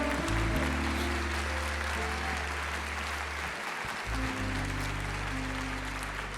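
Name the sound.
church congregation applauding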